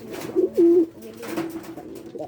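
Pigeons coo close by in a pair of low, rounded calls, then softer cooing and rustling follows in a small loft.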